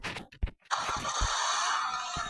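A motorcycle engine on a dusty trip splutters through a couple of short failed cranks, then catches and settles into a loud, steady running roar close by.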